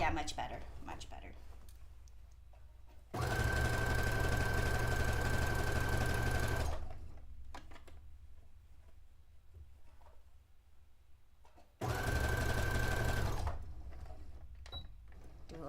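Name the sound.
sewing machine stitching white dress fabric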